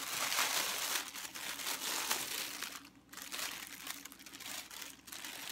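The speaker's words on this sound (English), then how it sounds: "it's wrapped in this cute tissue paper" Tissue paper wrapped around a mailed pocket letter crinkles and rustles as it is unwrapped close up, a steady run of dense crackling with a brief lull near the middle.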